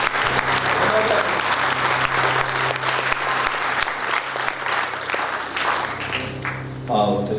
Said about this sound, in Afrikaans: klap vir Jesus